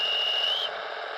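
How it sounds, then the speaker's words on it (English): Departure whistle sound effect from a Märklin 39100 DB VT 10.5 "Senator" model train, a thin high steady tone that bends slightly upward before cutting off, over a soft hiss, brief and faint. "alright, so we got the departure whistle"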